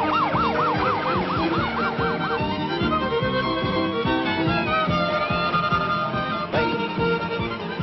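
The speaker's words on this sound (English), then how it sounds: "got a siren I hear? That or an air raid." A wailing siren rises and falls repeatedly, then shifts into a steadier tone, loud and close over a busy background of rumbling traffic.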